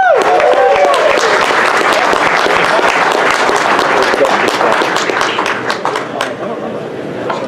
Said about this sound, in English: Let's give Dusty a big round of applause.